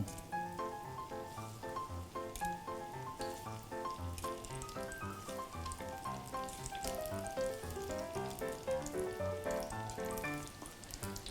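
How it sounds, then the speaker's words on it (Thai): Shrimp balls deep-frying in hot oil, a steady soft sizzle and bubbling patter that runs without a break under quiet background music, with no voices. "อ่ะเดี๋ยวผมก็จะทอดแบบนี้นะครับจนสีเหลืองแล้วก็สุกได้ที่"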